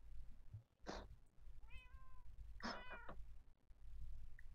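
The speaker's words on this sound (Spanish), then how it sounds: "Madre mía, los gatos, Carmen." Cats meowing in the video game Minecraft, two clear meows a moment apart with a faint short chirp between them, over a low steady background hum.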